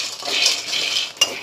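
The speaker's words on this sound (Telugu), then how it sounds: "ఇప్పుడు పల్లీలు వేసుకుందాం. ఇప్పుడు బాగా కలుపుకుంటూ" Peanuts being stirred in a hot kadai as they dry-roast until reddish, a steady scraping and rattling of nuts against the pan with one sharper clink near the end, no voices.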